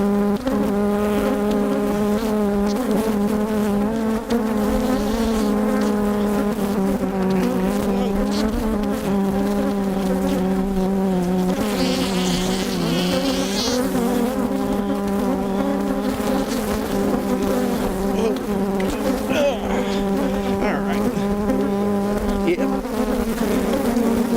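Honey bees swarm around a bee vacuum during a hive inspection, a dense, loud, continuous buzzing hum with shifting pitch that fills the whole stretch with no speech.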